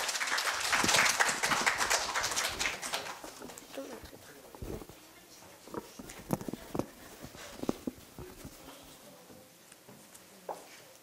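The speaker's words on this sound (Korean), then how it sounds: "큰 박수 부탁드립니다." At a Korea University middle-school speaking festival, the audience applauds a student speaker. Loud clapping opens the scene, then thins to scattered claps and fades as shuffling and voices take over.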